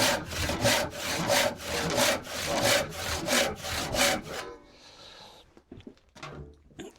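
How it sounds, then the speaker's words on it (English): A very coarse hand rip saw with 3 or 4 teeth per inch cuts quickly through wood while making wedges for a workbench, giving about nine loud rhythmic rasping strokes, followed by quieter knocks and handling sounds. "It's a very coarse rip saw."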